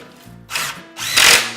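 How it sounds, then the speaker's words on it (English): A nailer fires into wood pieces for a Murphy bed mattress box, giving two close, loud bursts with a short hiss-like tail, the second stronger than the first, over faint background hum. "I'm just going to take my nailer, put a few nails to keep things lined up"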